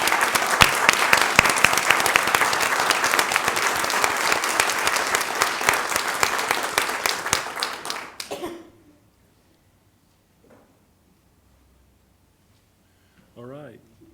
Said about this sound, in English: let us give them a round of applause for all of their service